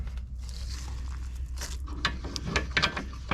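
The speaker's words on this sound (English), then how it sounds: "Screw it down." Something is screwed down onto a threaded washer on a loading ramp for a 7.5-inch gauge train: a few close, scattered clicks and metallic ratcheting scrapes over a steady low hum.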